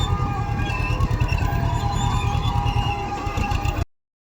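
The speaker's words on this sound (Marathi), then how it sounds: "चाललं बघा ट्रॅक्टर आता" A farm tractor runs on a field during sowing, its engine a steady low throbbing chug close by before the sound cuts off abruptly at the end.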